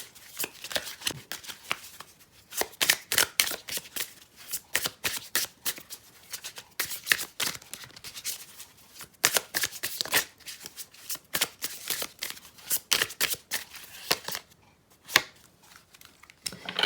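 Tarot cards shuffled steadily by hand at close range, a long run of quick riffling flutters and soft slaps with brief pauses, no voices.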